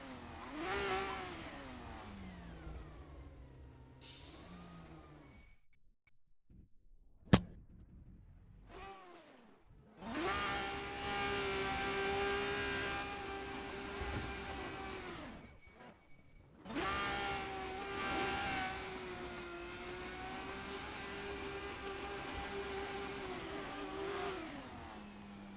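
A race car in the Assetto Corsa racing game revs hard while spinning donuts, its engine droning and rising in long sustained bursts with brief gaps and a sharp click between them.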